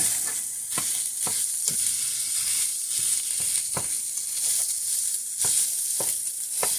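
Sweet Italian sausage fries in a pan for lasagna while an old spatula breaks it into crumbly pieces; a constant bright sizzle runs underneath repeated sharp scraping taps against the pan at an irregular rhythm.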